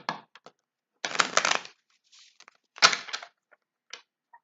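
A tarot deck is shuffled in a few separate bursts, each a brief rush of flicking cards followed by quiet gaps and small clicks.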